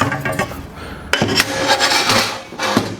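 A metal tray scrapes and clatters as it slides into a firepit oven, a short bright metallic rattle with a sharper knock partway through, close and fairly loud.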